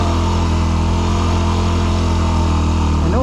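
Dirt bike engine labouring steadily on the climb to Imogene Pass, Colorado, at high altitude in first gear, a loud close continuous drone with a slight rise in pitch near the end.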